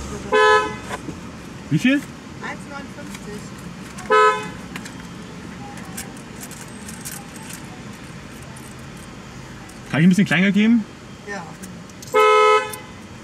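A car horn honks in several short bursts at a McDonald's drive-through, sounding close and loud between stretches of conversation at the ordering window.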